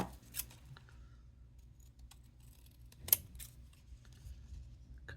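Scissors cutting paper for a planner layout: two crisp snips, close and isolated, separated by quiet rustling handling of the paper.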